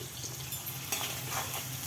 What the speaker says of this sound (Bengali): পেঁয়াজটা নরম করার জন্য, খুব তাড়াতাড়ি ভেজে যাওয়ার জন্য সামান্য একটু লবণ দিয়ে দিলাম।